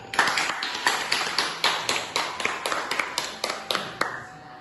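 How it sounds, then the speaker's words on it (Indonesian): Sharp, evenly spaced claps in a steady rhythmic pattern from an audience at a Balinese-language school drama performance at a senior high school in Kuta Selatan, moderately distant and fairly quiet, with no talk over them. "Beri tepuk tangan cantik Bali Pak"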